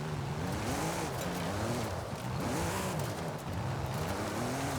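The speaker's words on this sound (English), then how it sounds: "When it's revving really, really low, it sounds like a straight pipe diesel." In Forza Horizon 5, a tuned game car revs low and continuously with a rough, gravelly drone like a straight-piped diesel. Its pitch sweeps up and down steadily with no talk over it.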